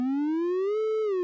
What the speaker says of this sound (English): Triangle wave sounds like that.